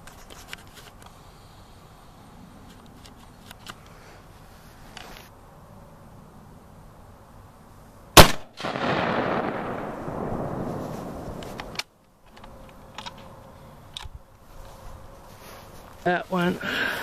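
A Federal 150-grain hunting round is fired into a car engine: one sharp, loud report with a brief ringing decay, surrounded by stretches of people talking.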